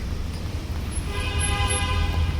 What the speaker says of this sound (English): You're going to hear a lot of honking.